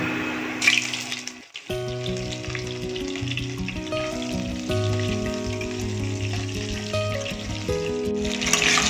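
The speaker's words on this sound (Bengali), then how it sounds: "ফুলকপিগুলো একটু ভেজে নেব।" Cauliflower florets frying in mustard oil with a spoonful of ghee, a loud continuous sizzle and crackle heard up close, with a brief pause and occasional stirring clinks.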